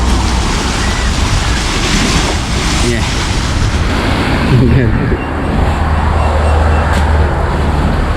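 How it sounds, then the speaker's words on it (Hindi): Sea waves surge and break against the shore in Muscat, Oman, a loud continuous wash of surf mixed with wind buffeting the microphone, someone speaking over it. "ये है जी, पानी की लहर लगती है पटक करके, ये देखिएगा फिर आएगी।"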